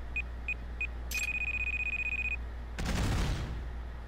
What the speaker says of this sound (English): That was an explosive.